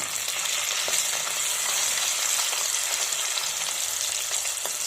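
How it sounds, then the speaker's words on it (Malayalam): Crushed ginger and garlic fry in hot oil for a Lakshadweep-style octopus roast, a loud continuous sizzle with light stirring scrapes throughout and no voices. "ഇഞ്ചി വെളുത്തുള്ളി ചതച്ച് വെച്ചിരിക്കുന്നതാണ് ഇതിലേക്ക് ഇട്ട് ഇതിൻ്റെ ആ പച്ചമണം മാറുന്നത് വരെ നമ്മൾ ഒന്ന് നന്നായിട്ടൊന്ന് ഇളക്കി"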